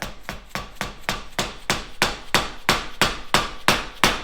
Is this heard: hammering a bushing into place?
yes